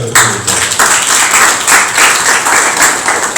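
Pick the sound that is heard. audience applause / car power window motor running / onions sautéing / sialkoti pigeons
audience applause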